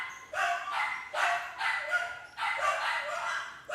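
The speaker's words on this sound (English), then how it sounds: "Those dogs are louder than you?" Several dogs bark in repeated loud bursts, about four volleys close together, with short gaps between them and no one speaking over them.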